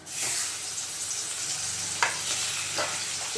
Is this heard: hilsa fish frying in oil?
yes